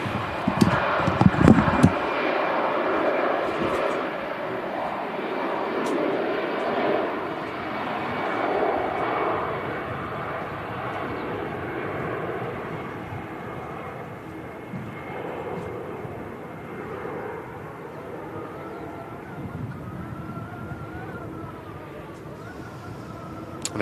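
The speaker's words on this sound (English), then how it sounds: "There it is, TUI Dreamliner lining up on the runway next to depart." TUI Dreamliner jet lining up on the runway at Manchester Airport, a steady distant engine roar and whine that slowly fades, with a voice talking over it early on.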